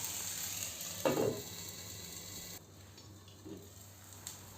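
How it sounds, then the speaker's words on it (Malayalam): Tomato and onion masala for a capsicum egg bhurji fries in a pan, a low steady sizzle with one brief louder stir scrape early on, then a quieter hiss after the lid goes on, faint and close with no speech. "എല്ലാം കൂടി ഒന്ന് മിക്സ് ചെയ്തതിന് ശേഷം അടച്ചു വെച്ച് ഒരു 2 മിനിറ്റ് നമുക്കിതൊന്ന് കുക്ക് ചെയ്തെടുക്കാം"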